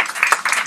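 A short burst of audience clapping at a comedy songwriting panel aboard the JoCo Cruise, close and fairly loud, with several uneven claps over less than a second.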